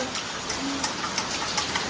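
Heavy rain pours down outside a house where water is starting to pool on the road, heard as a steady, even hiss with occasional sharper drips and splats.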